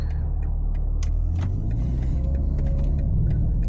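A 2025 BMW G80 M3 LCI cruising on a scenic residential road, heard from inside the cabin as a steady low engine and road rumble with a slight rise in pitch as it drives along.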